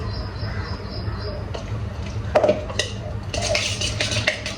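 A utensil stirring melted Amul butter mixture in a metal pot on a gas stove, giving scraping strokes and a few sharp clinks against the rim over a low background hum.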